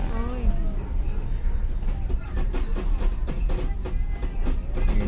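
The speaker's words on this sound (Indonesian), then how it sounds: "Nih sambil direm keretanya. Tuh tikungannya." The Siliwangi passenger train brakes on a curve between Sukabumi and Cipatat, giving a steady rolling rumble with rhythmic clickety-clack from the wheels. A voice talks over the noise.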